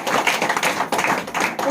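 A Sunday church congregation claps together, a dense, loud, continuous patter of many hands with slight rhythmic surges, close and without pause throughout.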